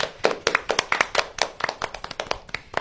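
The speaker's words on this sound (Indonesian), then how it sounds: "Wow, tepuk tangan dong." A small group claps their hands in a school studio podcast about elementary school taekwondo, with distinct, separate claps in a loose, uneven rhythm, close and fairly clear, with no speech.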